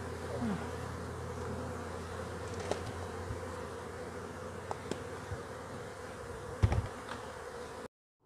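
Honey bees buzzing around an open hive with cross-combing problems, a steady dense hum of many insects close by, with a few faint clicks and knocks from hive handling and no talking.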